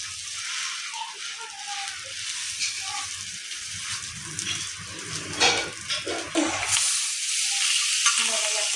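Pav roasting with bhaji on a hot tawa for Kolhapuri-style pav bhaji gives a close, uneven sizzle broken by scraping and stirring clatter, with brief louder bursts near the end.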